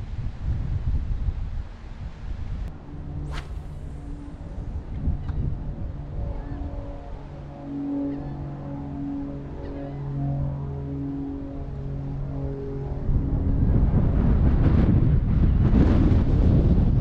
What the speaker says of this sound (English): This wind is killing me, guys.